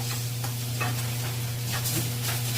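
Onion sizzles in a little oil in a pan over medium heat while being stirred for a Peruvian dish. A steady close frying hiss carries scattered scraping stir strokes, with no talk.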